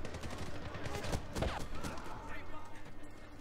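Rapid bursts of gunfire in the video game Medal of Honor, hard difficulty, mission "Belly of the Beast": dense, overlapping shots crackle steadily at moderate volume throughout, with a few sharper reports standing out.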